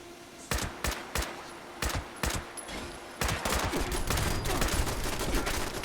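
Automated turrets fire in the video game Fallout 76, sending several sharp separate bursts and then a sustained, dense stream of gunfire that gets louder toward the end.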